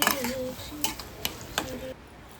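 Mashed roasted eggplant and tomato mixture for vangyache bharit being stirred in a pan: a few scraping, clinking spoon strokes against the pan, close and clear over a faint background.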